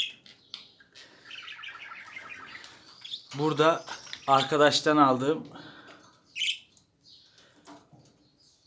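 Bright, high chirps and warbling from a budgerigar, partly overlapping someone talking, with a quick rapid chatter midway.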